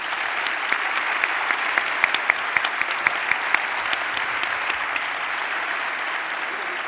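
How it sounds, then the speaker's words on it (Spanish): An audience at a T3chFest 2019 conference talk applauds steadily for several seconds, a dense even wash of many hands clapping in a hall, with a few sharper individual claps standing out. "creo que conviene un aplauso para ellas"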